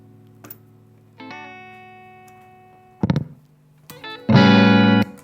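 Electric guitar played through a TriAmp tube preamp with audible tube clipping: a sustained clean chord ringing out, then short distorted stabs and a loud buzzing, fuzzy chord near the end, close and alone.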